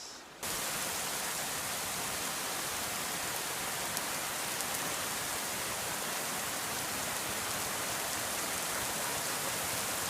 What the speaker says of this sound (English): Oh man, the rain is so hard and it sounds so amazing.